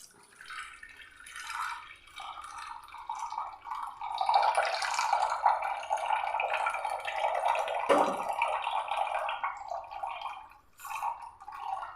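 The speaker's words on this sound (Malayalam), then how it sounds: "നമുക്കിതൊരു ബൗളിലേക്ക് നമുക്കൊന്ന് അരിച്ചങ്ങ് ഒഴിക്കാം." Blended lemon drink is strained into a bowl, giving a steady close trickle and splash of liquid for most of the stretch, fading briefly near the end.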